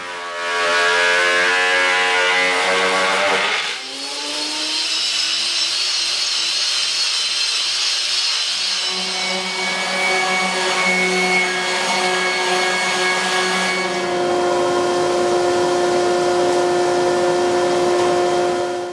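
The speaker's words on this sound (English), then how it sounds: "I'm going to put this through my planer." Thickness planer feeding a brass and resin slab, a loud whining roar that starts abruptly, then shifts pitch as the cutter bites and strains, holding a harsh, sustained grinding tone for over fifteen seconds.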